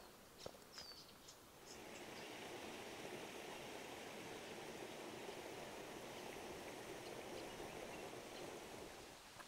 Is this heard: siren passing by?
no